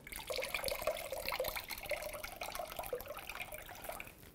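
Liquid from squeezed marinated eggplant drips and trickles steadily into a bowl, a close, light patter of small splashes running throughout.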